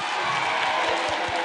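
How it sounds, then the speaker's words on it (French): A crowd at a presidential campaign rally in Guinea applauds and cheers, a dense, loud wash of clapping with rhythmic beats underneath and no clear voices on top. "Applaudissez pour vous-même."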